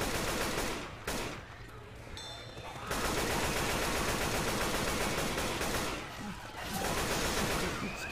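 Rapid automatic gunfire in Left 4 Dead 2, loud and dense, rattling through most of the stretch with a brief lull near the start and another toward the end, while players talk over the shooting.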